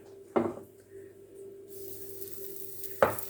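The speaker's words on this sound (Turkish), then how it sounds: "bir kepçe kadar waffle hamurumdan bıraktım. Hemen kapatıyorum." Waffle batter hits a hot waffle iron greased with margarine: a clunk, a steady low hum, then a soft hiss of sizzling rising before a second clunk as the lid closes.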